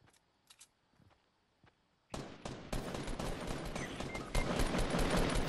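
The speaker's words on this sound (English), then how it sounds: "I'm firing." Rapid bursts of gunfire in the Fortnite battle royale video game, a few faint isolated shots at first, then loud sustained automatic fire and overlapping shots running continuously to the end.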